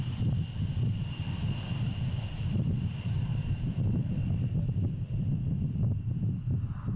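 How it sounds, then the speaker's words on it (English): Engines of a B-52 bomber in flight roar as a steady, dense low drone with a faint sustained whine above it, even and unbroken for the whole stretch. "The B-52 takes off from its base and flies to a designated launch point."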